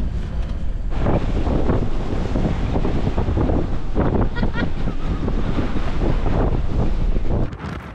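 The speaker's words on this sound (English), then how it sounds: "It's now 50 mile an hour wind out there" Strong, continuous 50 mph wind roars and buffets the microphone for several seconds in Scotland, loud and gusting throughout, easing off only at the very end.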